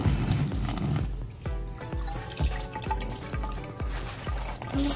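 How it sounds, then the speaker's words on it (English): Water in a hydroponic system trickles and drips steadily for five seconds, with bright repeated plinks over a continuous running flow, close by and fairly loud. "That's how much water is going through there. Water flow."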